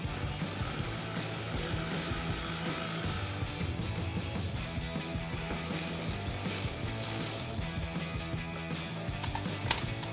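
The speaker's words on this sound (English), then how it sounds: "We're just gonna take a 10 mil socket and remove those 2." A 10 mm socket loosens bolts on the grille of a 2016-2023 Toyota Tacoma during a grille guard install, giving steady mechanical clicking and rattling work noise close by, with a background hiss running through most of the clip.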